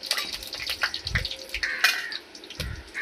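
Dried red chillies and tempering spluttering in hot oil, a close, continuous crackling sizzle with scattered pops and brief bursts.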